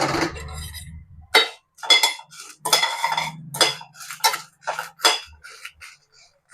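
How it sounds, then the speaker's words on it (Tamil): Dry red chillies toasted in a dry pan for egg podi masala, stirred so they rattle and scrape against the metal in a run of sharp, close clattering bursts with short pauses between. "மிளகாய் வறுக்க போகிறோம்."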